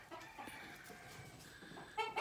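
Rooster clucks in short bursts amid farmyard background noise, with a louder, brighter call near the end.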